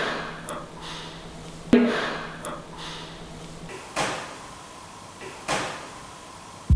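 A heavy door slams shut with a loud, sharp bang inside an old Irish castle, followed by several fainter knocks and thuds spaced through an otherwise quiet, echoing room.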